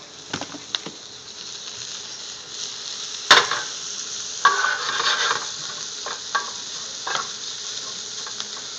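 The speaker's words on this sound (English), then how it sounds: "just before it starts to color, I'm going to add in the chorizo" Chorizo added to a hot pan in a chef's cooking demonstration, producing a soft, steady sizzle with a sharp clatter as it drops in, followed by intermittent stirring scrapes and light pops.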